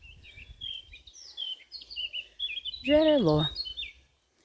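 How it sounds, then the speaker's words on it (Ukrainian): Nightingales sing outdoors by a holy spring in the village of Rakovets, a steady stream of high chirps and warbles, with a person briefly speaking close by. "На соловейки співають."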